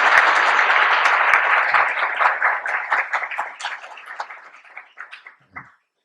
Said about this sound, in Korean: 다시 한번 축하의 박수를 같이 한번 쳐보면 좋겠습니다